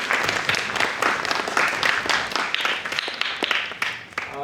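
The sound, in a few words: audience applause at a band concert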